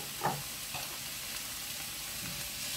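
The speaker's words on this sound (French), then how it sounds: "On va y faire cuire nos champignons pour qu'ils dégorgent l'eau de cuisson." Mushrooms cook in a hot pan with no fat, giving a steady, faint sizzle with soft hissing and a couple of light stirring knocks.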